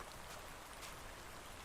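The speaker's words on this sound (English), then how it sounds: "Starting to rain now." Steady rain falling in the video game Ark Survival Ascended, a soft continuous hiss of drops at low level with no talk over it.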